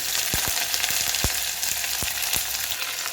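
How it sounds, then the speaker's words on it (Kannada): Chopped onions fry steadily in a hot pan, a continuous broadband sizzle with a few soft stirring knocks scattered through; no voices. "ಈಗ ಈರುಳ್ಳಿ ಚೆನ್ನಾಗಿ ರೋಸ್ಟ್ ಮಾಡ್ಕೋಬೇಕು."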